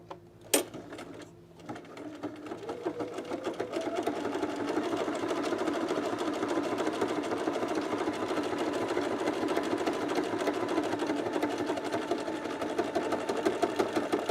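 A sewing machine stitches Glissando pants, running in a steady continuous whir for most of the stretch after a couple of brief clicks and a short pause at the start.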